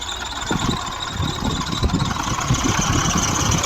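An old Russian tractor engine runs steadily while pulling a three-tine chisel plough through hard, compacted soil, its low diesel chugging loud and near with rattling vibration throughout.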